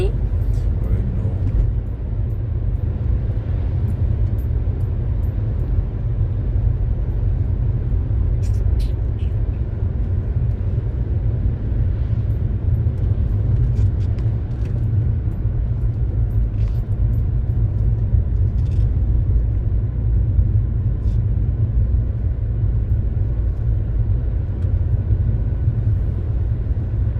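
A modified car's engine drones inside the cabin, a loud, steady low rumble that holds without a break throughout.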